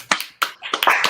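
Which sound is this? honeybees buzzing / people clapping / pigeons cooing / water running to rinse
people clapping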